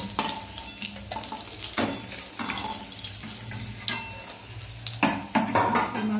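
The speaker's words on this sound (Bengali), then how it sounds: "মাছটি ভাজি হয়ে গেছে, এবারে মাছটিকে আমি তুলে নেব।" Hilsa fish frying in oil in a pan, a soft continuous sizzle broken by clattering utensil scrapes and knocks as pieces are stirred and lifted out, close and moderately quiet.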